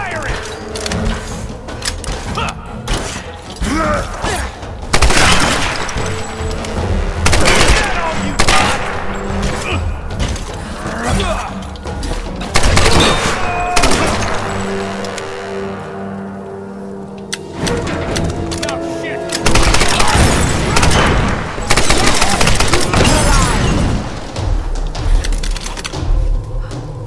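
Rapid bursts of gunfire from the 2013 Tomb Raider video game, dense volleys and fusillades repeating throughout with brief lulls, loud and close, mixed with other game effects.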